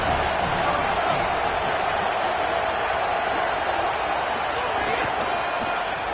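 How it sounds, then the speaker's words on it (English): A college football stadium crowd at Penn State versus Mizzou roars in a steady, continuous wash of noise on second down, with a commentator talking over it. "this crowd is turning it up a notch"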